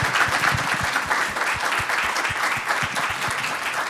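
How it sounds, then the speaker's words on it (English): Steady applause from a workshop audience on non-proliferation and disarmament, many hands clapping densely and continuously with no voices on top, holding an even level throughout. "I would like us to give a big applause to Sogol"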